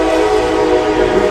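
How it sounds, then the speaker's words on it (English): A train rolls past about 100 yards from the listener, a loud, steady roar with a sustained tonal horn-like drone and no break in the sound. "That's the train."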